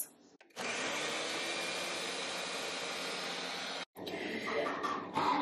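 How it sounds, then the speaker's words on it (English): An electric blender whirs loudly and steadily, blending a dairy-free chocolate ice cream base. The motor stops briefly near the end, then restarts with a slightly rougher, churning tone. "I'm gonna send this through the blender for another 2 minutes"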